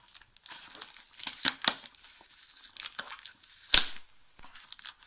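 Plastic packaging around a Subaru rally RC car being cut open, with scattered crinkling, tearing and snipping noises in short irregular bursts, close and moderately loud.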